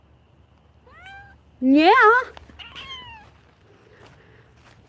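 A house cat meows close by, a couple of soft rising calls building to one loud, drawn-out wail and a shorter follow-up meow, with a person's brief voice nearby.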